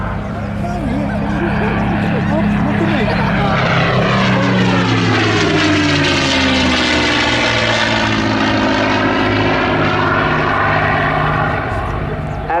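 A P-51 Mustang with its Rolls-Royce Merlin engine flies a display at an airshow, a loud, sustained propeller drone swelling and sweeping in pitch as it passes close by, with a voice talking over it.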